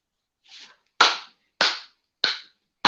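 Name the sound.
clapping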